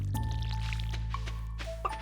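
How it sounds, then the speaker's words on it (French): Plants are watered in the video game Stardew Valley, with short, soft pouring and splashing effects heard over steady background game music. "arroser nos plantes"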